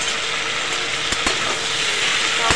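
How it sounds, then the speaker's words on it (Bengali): Grated tomato is stirred into potatoes and yardlong beans in a hot pan, producing a continuous close sizzle with a few sharp scrapes of the spatula. "টমেটোটা দিয়ে নেড়ে চেড়ে ভালো করে কষিয়ে দেবো।"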